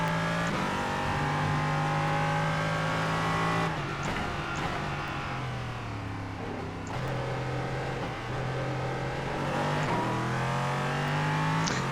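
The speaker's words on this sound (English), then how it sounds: "taking the green in the LMP3 and qualifying, braking hard for turn 1, trying not to lock up the rears." An LMP3 prototype race car in the iRacing simulator, its engine revving high and sustained, rising through the gears with brief dips at shifts, loud and close with no talk over it.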